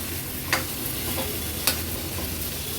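Prawns and potatoes frying in a pan in an Agri-Koli style home kitchen, with a steady sizzle throughout and two brief scraping strokes of a spoon as the mixture is stirred.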